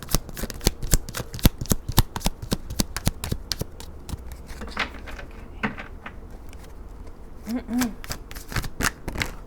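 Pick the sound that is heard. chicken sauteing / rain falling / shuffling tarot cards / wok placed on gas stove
shuffling tarot cards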